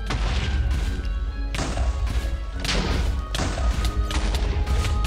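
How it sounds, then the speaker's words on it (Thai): RPG grenade launcher explosions in a video game, a dense run of heavy booming blasts and thuds with crashing debris, loud and continuous over a thick rumbling game soundtrack. "เอาเป็นปืน ปืนระเบิดอย่างอื่นแล้วกันเนาะ RPG แล้วกันนะฮะ"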